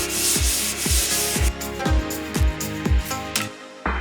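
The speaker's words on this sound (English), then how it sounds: "So we're sanding it back today, getting ready for the painter tomorrow." Rhythmic abrasive rubbing of sanding strokes on primer on a sailboat hull, repeating about twice a second, close and steady with no talk.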